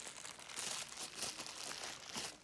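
Crinkling and tearing of packaging as a box holding a car screen for a 90's Honda Civic is cut open, steady close rustling without talk.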